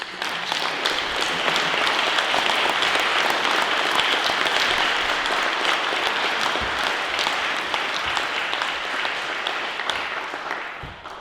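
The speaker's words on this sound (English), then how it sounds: "I'd like to give a big round of applause to you." Loud, sustained applause from an audience, a dense wash of clapping that swells and then slowly tapers off.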